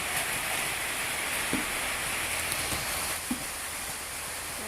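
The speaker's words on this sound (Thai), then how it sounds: "ฝนตกละ" Rain falling steadily outdoors in an orchard of Thai jujube trees, a soft continuous hiss with a few faint drips and taps over it.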